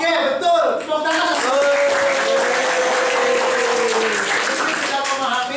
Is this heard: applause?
yes